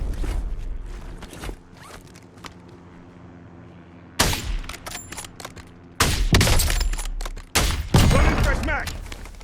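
Bursts of gunfire in the video game Warzone, loud sharp volleys arriving in clusters with brief quieter gaps, mixed with game sounds.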